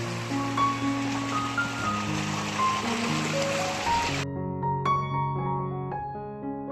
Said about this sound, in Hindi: यहाँ की साइड खेतों की ओर से भी बहुत सारा पानी निकल रहा है